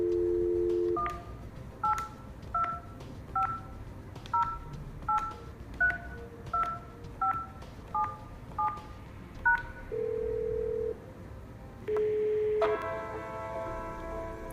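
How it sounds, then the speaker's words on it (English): A phone on a Yeastar PBX extension dials a mobile number, giving a quick series of about a dozen evenly spaced DTMF keypad tones, followed by a short ringback tone and a steady dial tone, all clear and close. "use extension 8002 to dial a mobile number"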